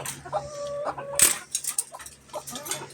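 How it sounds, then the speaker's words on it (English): Backyard chickens clucking as they are let out of their coop, several short, close clucks and squawks in quick succession, with faint background noise between. "All right, Beast, we're going to let a lot of chickens get out"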